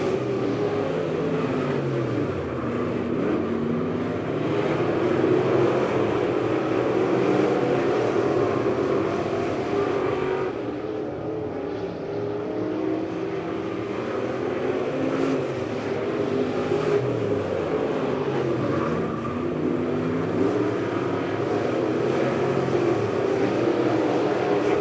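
Race cars circling a dirt speedway at Lebanon Midway Speedway during heat races, a continuous engine roar rising and falling as cars pass, distant and broad with overlapping revving throughout.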